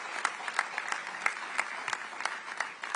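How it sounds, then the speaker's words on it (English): Audience applause at a US nutrition policy announcement event, a steady wash of clapping with sharper individual claps popping through, sustained for the whole stretch at moderate distance. "Let's give them a round of applause."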